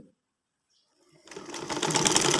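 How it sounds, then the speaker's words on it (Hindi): A sewing machine stitching a trouser panel with a triangle insert runs up from near silence after about a second into a steady, loud, continuous whirring drone. "अब इसी तरह हम इसके ऊपर पौंकी रख कर सिलाई लगा लेते हैं जी"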